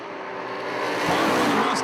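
Drag race cars launching head-to-head at Galot Motorsports Park, one a Mustang, as a dense, rising engine roar builds steadily over two seconds with an announcer talking over it.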